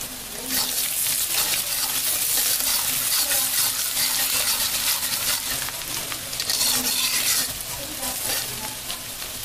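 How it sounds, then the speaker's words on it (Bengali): Sliced onions with cinnamon sticks and cardamom pods fry in hot oil with a loud, dense sizzle close by. Stirring adds crackling bursts, and there is no talk. "এবার পেঁয়াজ ভাজার মধ্যে আমি কটা দারচিনি আর এলাচি দিয়ে দিলাম।"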